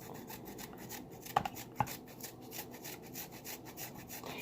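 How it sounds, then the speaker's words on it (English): Fresh ginger rubbed against a grater, a soft continuous rasping scrape with a couple of sharper knocks near the middle, close and fairly quiet with no talk. "If you find with your ginger that it's resisting on the grater, just turn it"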